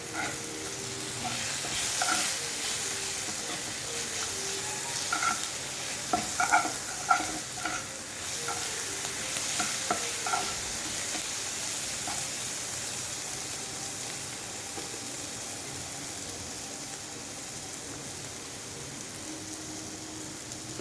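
Food sizzles steadily in a pan while an egg and cabbage curry is cooked, with occasional stirring scrapes and clicks over a constant frying hiss; no one speaks.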